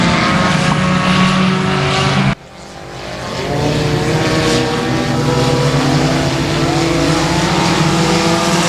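Front-wheel-drive four-cylinder race cars roar around a speedway in a main event, a loud continuous engine drone with a sudden cut and dip before the roar builds back up.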